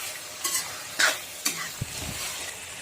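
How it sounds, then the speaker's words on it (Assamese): Meat for amothu bhaji fries with a soft continuous sizzle while a utensil stirs and scrapes the pan in a few distinct strokes, close up and without speech. "মাংসখিনি এইদৰে ভাজি ল'ম।"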